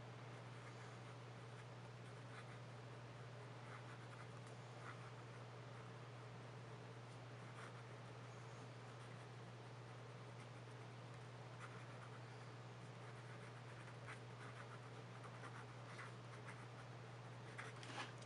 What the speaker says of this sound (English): Let's try some upside down writing.